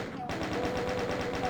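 A chain gun in the video game DOOM fires a rapid, evenly spaced burst of shots that carries on through the whole moment, loud and close.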